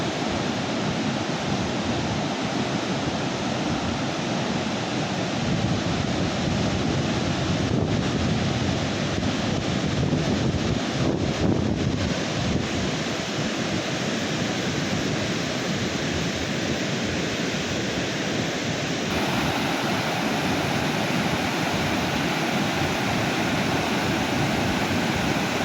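Water rushes out of the open Mata Bango dam gate in a loud, continuous broadband roar that holds steady the whole time, with no voices over it.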